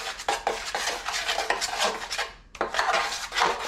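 A trowel mixing joint compound in a metal pan makes rapid, repeated scraping and clinking strokes, close and fairly loud. The rhythm is continuous, with a brief pause midway, and no one talks.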